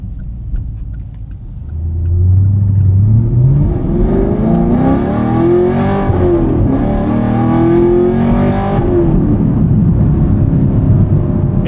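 A modified 2022 Chevrolet Camaro SS 1LE V8 revs loudly and close by, its note sweeping up from a deep rumble into a rising roar, then holding high and steady before easing slightly; no voices.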